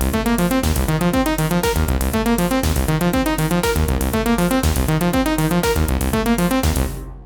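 A second oscillator on a b:art Instruments b:ond through-zero FM synth module, mixed into the same channel, runs its own sequence as fast repeating metallic FM notes, loud and steady, then cuts off abruptly near the end.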